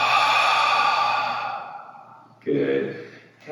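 Deep breath drawn in through the nose and released during a yoga practice opening, a long soft airy inhale fading out, then a second breath rising after a short pause, close and quiet.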